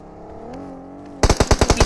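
Rapid automatic gunfire in the mobile shooter BGMI: a close, loud string of about eight evenly spaced shots that cuts in abruptly after a quiet, humming stretch.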